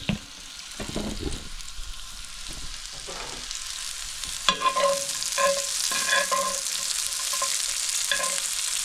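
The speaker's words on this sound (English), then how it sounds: "I cook the garlic for about 30-40 seconds, and then I add the onions" Onions and garlic fry in a pan for braised shanks, a bright continuous sizzle that swells as ingredients drop in, with repeated spatula scrapes and stirring knocks close by.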